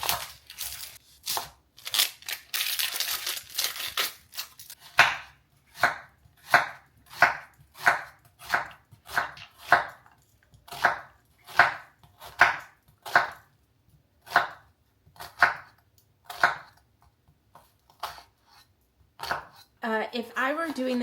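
A knife chops vegetables, onion among them, on a cutting board for a chickpea Italian soup, a steady run of crisp, close, evenly spaced thuds after a busier opening stretch, with a voice briefly at the end.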